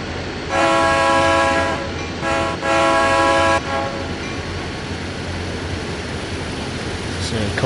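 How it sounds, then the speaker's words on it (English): A coal train in the Train Sim World 3 video game, running on the Horseshoe Curve, sounds two loud horn blasts over a steady rumble of railcars, and the rumble carries on after the horn stops. "Coal train there."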